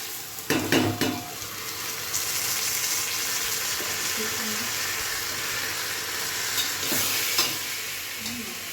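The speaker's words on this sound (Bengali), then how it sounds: "এবারে সুন্দর করে নাড়াচাড়া করে নিচ্ছি" Soaked rice with cashews and raisins being stirred in a frying pan for veg pulao: a continuous hiss of sizzling oil with scraping and clattering of a spoon against the pan, busiest at the start and again near the end.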